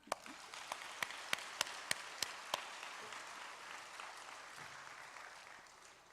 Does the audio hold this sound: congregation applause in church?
yes